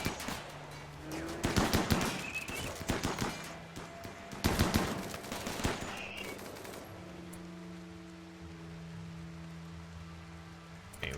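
Bursts of automatic gunfire from a RimWorld colony battle against a centipede, loud rapid volleys over the first half, then fading as sustained music tones carry on alone.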